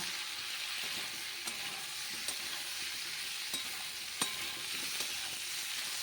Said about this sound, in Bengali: এবার নেড়ে ছেড়ে ভালো করে আর একটু কষিয়ে নেব